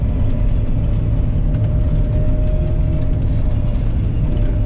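A Claas combine harvester on wide 850 tyres drones at steady idle during a barley harvest, a dense low rumble with a faint mid-range whine running unbroken and loud throughout.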